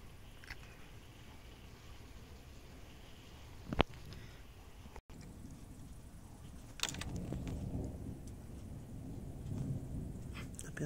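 A summer evening thunderstorm in Chełm, Poland: a sharp crack of thunder stands out over steady rain, followed by a low rolling rumble, with no voices.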